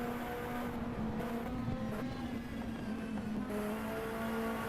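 Heard from onboard during a lap, an electric race car gives off a steady high-pitched motor whine with a tone that shifts as speed changes, plus a dip and rise around braking, all continuous and close.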